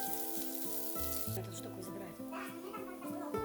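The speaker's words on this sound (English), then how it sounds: "sauté the diced vegetables in about 3 tablespoons of olive oil. Start with the onion and celery." Diced onion and celery sautéing in about three tablespoons of olive oil hiss with a steady sizzle underneath a person speaking, with music-like tones in the background.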